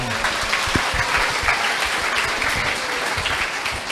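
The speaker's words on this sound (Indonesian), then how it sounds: "Tepuk tangan semuanya." A church youth gathering breaks into applause, many hands clapping together in a continuous, even patter that stays fairly distant and moderate throughout.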